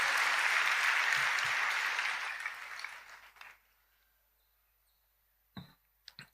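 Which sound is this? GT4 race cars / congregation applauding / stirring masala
congregation applauding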